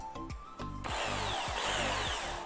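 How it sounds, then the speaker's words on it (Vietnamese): A Japanese 100V 400W hammer drill with a 13 mm chuck runs close by. A few short clicks come first, then the motor spins up to a loud, steady whine that carries on to the end. "Đầu 13 ly, hai chức năng khoan thường và khoan búa."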